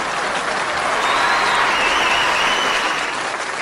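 Loud, dense audience applause from a large crowd at a Tamil stage talk, a steady wash of clapping lasting the whole few seconds with no speech on top.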